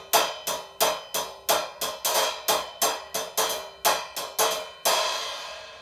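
A choke cymbal is struck over and over in a steady rhythm, each bright crash cut short by the hand, ending on one hit left to ring out longer, close and loud.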